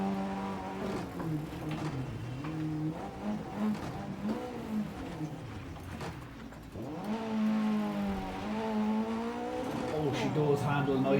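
A rear-wheel-drive rally car in a racing game, its engine revving and climbing through gears on snow and ice, a loud droning whine that rises and falls, with someone talking over it.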